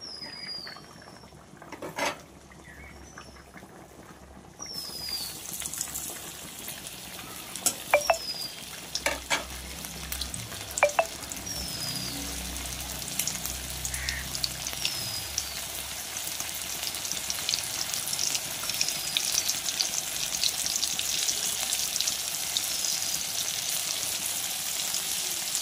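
Lote fish pieces frying in hot oil for a fish curry: quiet at first with a few clinks and faint chirps, then a hot sizzle bursts in and swells into a steady, crackling hiss.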